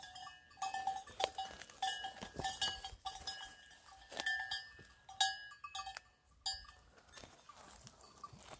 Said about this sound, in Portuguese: E as cabras se alimentando aí, né?